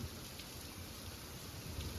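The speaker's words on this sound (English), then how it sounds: "Oh, it's actually raining." Steady rain falling outdoors on a farm during harvest season, a soft continuous hiss with a low rumbling undertone, quiet and even throughout with no voices.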